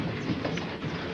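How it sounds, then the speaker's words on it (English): Inside a moving rail car, a steady, dense rumble of the rolling train fills the space evenly at close range with no voices. "Marty, on trains, they ask you to sit wherever there are vacant seats."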